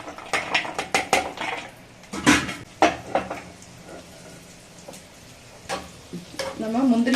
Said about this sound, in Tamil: நம்ம முந்திரியை நல்லா இதுல நெய்யில வறுத்துக்கலாம்.